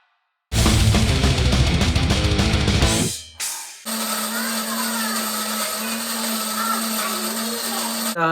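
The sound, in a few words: electric coffee grinder grinding 20 grams of coffee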